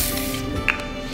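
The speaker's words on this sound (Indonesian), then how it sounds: "kalau misalnya pingin seger-segeran ya aku semprotin si Evian" Evian facial water mist sprays in one short, steady hiss from a can, close and clear over a constant background hum.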